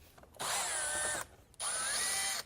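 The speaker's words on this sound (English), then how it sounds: "we'll have to unclip this coolant line, set it to the side, and then remove the two T25 bolts" A power driver spins out T25 bolts on a VW Golf R, two separate whirring bursts of just under a second each, loud and close, with a short quiet gap between them.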